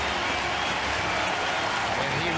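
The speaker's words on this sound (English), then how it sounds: "there's the Blue Jay fans giving him a round of applause and showing their appreciation" Dense, steady applause from Toronto Blue Jays fans in a baseball stadium as a pitcher leaves the game, a broad distant wash of clapping that holds evenly with a crowd murmur underneath.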